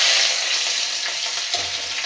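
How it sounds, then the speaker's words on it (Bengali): Garlic frying in oil in a kadai for a Bengali village dish, a continuous bright sizzle close up with a brief stirring scrape near the end. "তো প্রথমে আমি রসুনটা দিয়ে দেবো কড়াই,"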